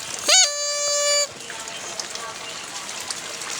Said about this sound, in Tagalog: Maulan na sa Pilipinas.